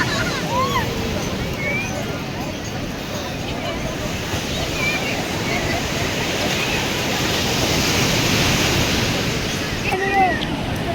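Heavy surf pounds at the Puri estuary, a dense, loud continuous roar of breaking sea waves mixed with wind noise and distant crowd babble, with brief voices and chirpy calls briefly surfacing over it.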